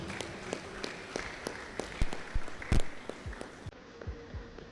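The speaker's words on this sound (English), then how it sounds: "please a round of applause for Mr." Scattered, sparse clapping from an audience greeting a speaker at a tech event, with individual claps landing irregularly at low volume and no talk.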